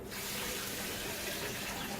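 Water pours steadily into a blender jar holding 1 cup of raw uncooked rice, a continuous close hissing rush with no talk.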